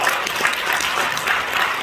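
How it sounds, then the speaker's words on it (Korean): A crowd at a civic rally and church gathering applauds in encouragement, a loud, unbroken wash of many hands clapping, steady and close throughout. "큰 박수로 격려해 주십니다."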